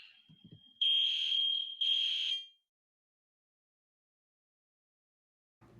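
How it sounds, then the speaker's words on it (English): A building fire alarm being tested sounds two loud, sustained high-pitched electronic tones, each lasting about a second with a short gap between, before cutting off to silence, and a faint low thump follows at the end. "The building was testing the fire alarms."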